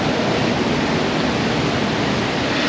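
Liquid poured in a steady, loud stream into a dispenser in an auto repair shop, a continuous close-up rushing splash with no voices.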